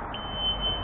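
An airsoft flash grenade gives off a steady high electronic beep that holds through the whole short moment, loud and close, with a low background rumble beneath it.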